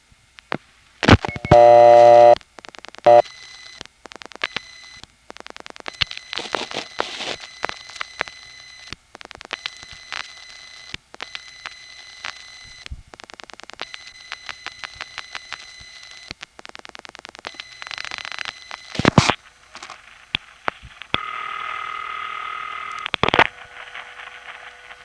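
Ringing machine tones on a Bronx telephone intercept call, with repeated bursts of harmonic buzzing ring tones, clicks and switching noises that recur in a steady cycle and end in a sustained tone.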